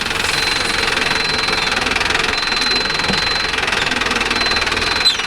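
A Mahindra Arjun Novo 605 S tractor engine runs steadily with a knocking, vibrating mid-pitched drone, close and continuous throughout without speech.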